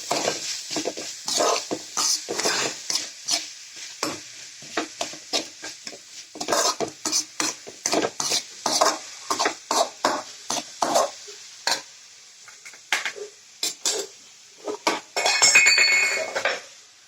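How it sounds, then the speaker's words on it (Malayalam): Papaya thoran being stirred with salt in a pan, a steady run of quick scraping strokes and light metallic clinks over a soft background sizzle, close and clear with no talking. "പിന്നെ ആവശ്യത്തിന് ഉപ്പും. എന്നിട്ട് നല്ലതുപോലെ ഇളക്കണം."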